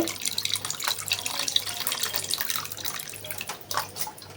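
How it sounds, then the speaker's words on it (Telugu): Tamarind water splashes and trickles unevenly into fish curry, pouring in short bursts with some dripping, fairly close and moderately quiet. "ఆ వాటర్ని వంచేసుకోవాలి"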